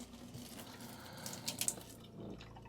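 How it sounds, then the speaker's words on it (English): Water flowing steadily through newly fitted filters in a home water system being flushed, a soft continuous trickle and splash with a few faint drips, fairly quiet and alone. "I need to run the water filter for about 5 minutes to clean out all the filters"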